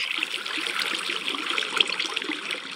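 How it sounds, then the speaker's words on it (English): A Minecraft waterfall pours as a steady, moderately loud wash of splashing and trickling water that continues without a break and with no talking. "There's a waterfall."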